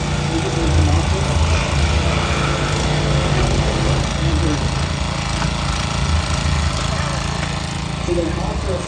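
A pump powering fire department hydraulic rescue tools during a car rescue demonstration on Main Street in Scio, Oregon, droning loudly and steadily throughout, with a person talking over it.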